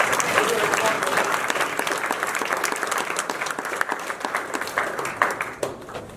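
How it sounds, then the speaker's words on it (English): Dense applause from the audience at a city mayor and council meeting, honoring the Department of Public Works; steady clapping holds for several seconds, then thins and tapers toward the end. "let's hear a real quick round of applause for our entire Department of Public Works"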